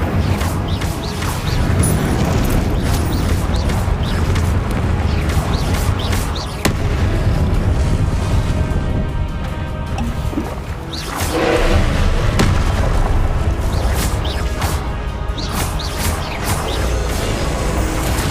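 Incendio fire spell cast repeatedly in the Hogwarts Legacy video game, a string of dense, booming whooshes and thuds over a continuous loud game soundtrack, with bursts recurring every few seconds.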